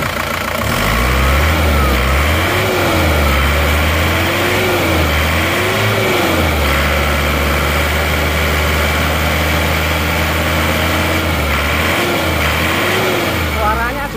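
An Isuzu Panther non-turbo diesel engine idles loudly nearby and is revved in several short bursts, the engine note climbing and dropping repeatedly with a steady rumble between.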